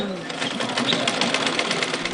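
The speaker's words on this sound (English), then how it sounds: "how to use an old-fashioned treadle sewing machine, the kind that will work without electricity" An old-fashioned treadle sewing machine used in a sewing class in Sierra Leone runs with a steady, rapid mechanical whir and clatter while a voice talks over it.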